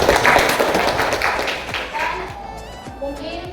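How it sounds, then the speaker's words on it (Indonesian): A classroom audience claps briefly after a student group finishes presenting a lesson on shrouding the deceased, loud at first then thinning into scattered claps, with a voice speaking over the tail. "Ya, tepuk tangan dulu"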